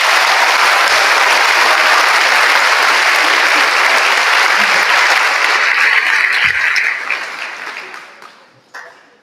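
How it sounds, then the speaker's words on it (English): Loud, dense applause from an audience at a class of 2024 promotion ceremony, sustained for several seconds before tapering off near the end. "Big round of applause."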